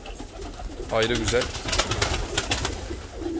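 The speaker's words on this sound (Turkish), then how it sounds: "Dünyanın en hızlı uçan güvercinleri olarak geçiyor cimperiler." Fancy pigeons, including cimperi, coo softly and repeatedly inside a crowded loft, their low rolling calls steady in the background while someone talks.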